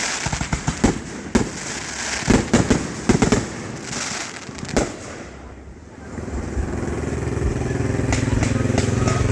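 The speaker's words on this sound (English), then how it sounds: "There's fireworks behind me." Fireworks at an outdoor show go off close by with sharp, loud bangs and crackles, then give way to a continuous roaring rumble. A person talks over the noise.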